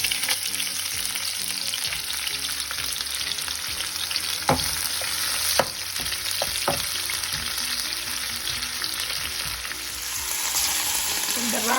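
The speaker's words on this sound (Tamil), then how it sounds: "வெங்காயத்தை பொரிச்செடுப்போம்" Onions deep frying in hot oil for a shrimp pittu mix make a steady, loud, dense crackling sizzle, broken by a few sharper pops and stirring clinks.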